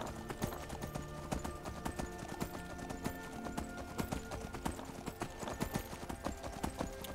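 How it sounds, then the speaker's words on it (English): Horse hooves clip-clop steadily in the Skyrim video game as the rider crosses a bridge, a dense, continuous rhythm of hoof strikes over a constant ambient background, with no voices. "Come on, Serana, run fast behind my horse."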